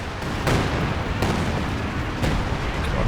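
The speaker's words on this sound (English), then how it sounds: "There's just too much artillery." Booming artillery fire from the World War II strategy game Company of Heroes 2, with several sharp, loud blasts landing close together over a dense rumbling battlefield din, no voices.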